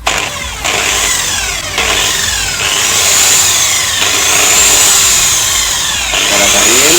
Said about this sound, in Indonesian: polesnya gue pakai mesin poles yang murah ya